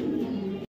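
A single brief, low, throaty coo from a male club racing pigeon, close and clear, cutting off abruptly.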